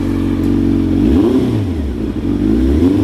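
A 1993 Honda CBR900RR motorcycle engine idles steadily while warming up with the choke just turned off, a close, loud, even running note with slight rises in revs and no talking.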